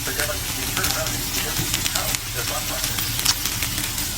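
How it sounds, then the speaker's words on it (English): Beef and broccoli sizzle steadily in a small frying pan, a constant close hiss and crackle of oil running through the whole stretch without pause. "I make it like crispy. Like maybe 4 5 minutes on the pan."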